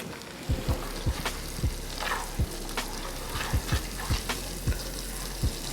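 Diced onion and roasted garlic sizzling in a pan, a steady frying hiss with repeated low knocks and scrapes of a spoon stirring, close and without talk.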